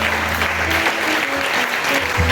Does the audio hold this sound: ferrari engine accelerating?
no